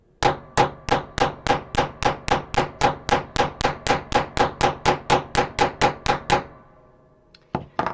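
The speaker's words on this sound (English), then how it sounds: "when we hammer the metal is that it strengthens it." Steady hammer strikes on metal for a leather bracelet, about two dozen sharp, evenly spaced blows close up, then a pause and a few more taps at the end.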